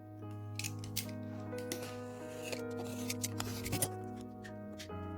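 Scissors snip the excess edges of a homemade coin card in a series of small, quiet crisp cuts over a steady background hum.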